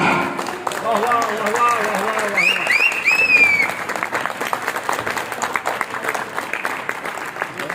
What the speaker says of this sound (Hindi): सिर्फ 1 मिनट के लिए जोरदार तालियां हो जाए मिस्टर हामिद कमाल